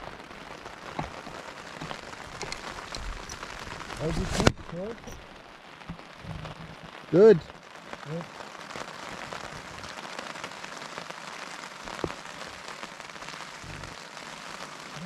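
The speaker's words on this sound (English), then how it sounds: "Been raining now for well over an hour, I'd say." Steady patter of rain drumming on a taut tent close by at a lake campsite, with two people exchanging a brief greeting over it and a sharp knock midway.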